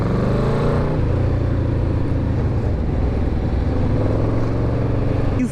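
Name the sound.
Yamaha VMAX V4 motorcycle engine running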